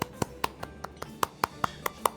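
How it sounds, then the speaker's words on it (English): Slow, polite golf clap from a tabletop game player, about ten light, evenly spaced claps, close and fairly quiet with no talking. "Brutus gives a golf clap again"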